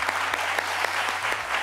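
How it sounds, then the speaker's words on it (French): Studio audience at a television show breaking into brisk, sustained applause, many hands clapping together close and loud with a few sharper individual claps standing out. "On t'applaudit bien fort."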